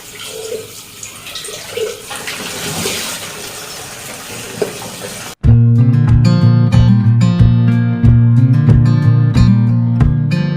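Hot water runs from a tank tap in a steady, hissing splash for about five seconds, then loud music abruptly takes over.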